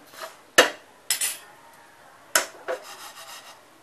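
Rice is roasted and stirred in a pan until browned, giving a few quick scraping strokes of a spoon against the metal with short pauses between them, close up and fairly quiet.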